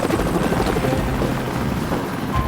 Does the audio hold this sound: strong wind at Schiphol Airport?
no